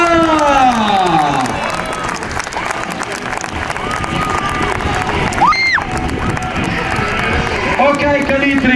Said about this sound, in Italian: Forte l'applauso per il nostro Mister Marca